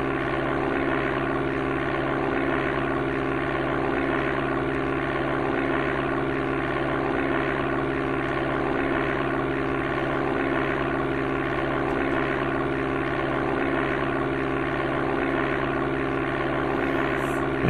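Propeller plane engine in the Amiga game Flight Simulator II roars steadily through takeoff, a constant droning buzz with a rhythmic pulse, loud and unchanging throughout.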